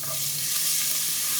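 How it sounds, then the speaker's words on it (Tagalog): Garlic sautéing in hot oil, a dense, steady, close sizzle that stays loud and even throughout, with no voices. "Maggisa tayo ng bawang"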